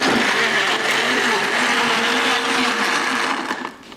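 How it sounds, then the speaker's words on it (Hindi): A kitchen blender whirs loudly and steadily close by, its high motor whine constant for nearly four seconds before easing off at the end. "लेकिन इसे यहाँ भेजने की जरूरत है ब्लेंडर में।"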